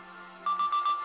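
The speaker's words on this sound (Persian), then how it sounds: "تلفن جواب بده داداش" A mobile phone rings in a pocket during an Iranian TV drama scene, a steady electronic tone pulsing in a few short repeated bursts after a quieter stretch, fairly close and with no talk over it.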